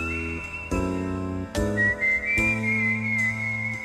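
Someone whistles a long, sustained, piercing note over a steady musical accompaniment with periodic chord changes.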